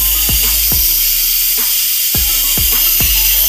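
An Instant Pot cooking beef stew vents steam in a loud, steady hiss that runs unbroken throughout, with a few low knocks and thumps underneath from close by.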